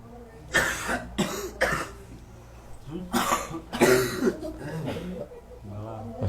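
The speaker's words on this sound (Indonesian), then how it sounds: "Orang pada batuk sama kayak di Mekah Madinah." Several audience members cough and clear their throats in bursts scattered through a religious lecture gathering, with soft murmuring voices underneath.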